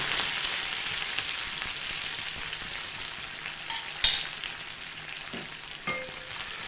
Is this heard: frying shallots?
yes